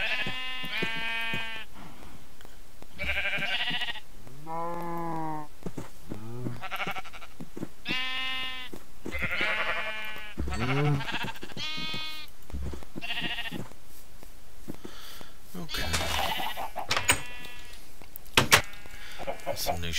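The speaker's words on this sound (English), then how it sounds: "Be part of the rest of the sheep." Sheep in the video game Minecraft bleat repeatedly, many overlapping wavering calls close by, with a couple of soft clicks near the end.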